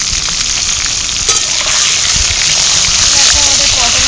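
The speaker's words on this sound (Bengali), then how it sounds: "আমাদের পটল ভাজা হচ্ছে।" Pointed gourd (potol) frying in hot oil over high heat, a constant loud sizzle with occasional stirring, and someone speaking over the frying.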